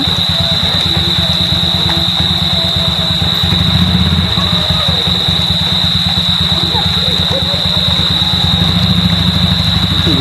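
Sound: motorcycle arriving

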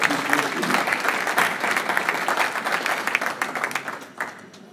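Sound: applause from dinner audience

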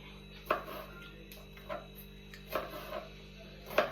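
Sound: knife chopping tomato

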